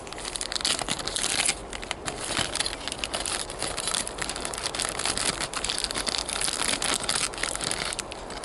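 Model railway wagon parts rustled out of a plastic bag, giving dense continuous crinkling and crackling close by that runs steadily through the whole stretch with no talk.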